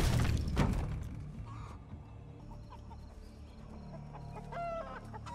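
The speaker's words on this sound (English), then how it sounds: "No, don't shoot the rooster." A rooster crows and clucks amid a low thump and steady background rumble, the harmonic crowing rising clearly near the end.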